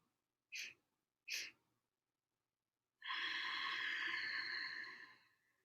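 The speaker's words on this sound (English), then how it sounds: "4 gentle sniffs slowly through the nose. Pause. And then 1 long letting go." Two short, gentle sniffs through the nose during a calming Kundalini breathing exercise, a pause of quiet, then one long, airy exhale that fades out slowly at the end; close and soft, no talking.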